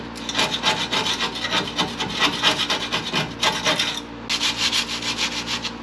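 Sandpaper rubbing back and forth on the painted body of a Dodge Dart, close and steady in rhythmic strokes with a short pause partway through, and no talking.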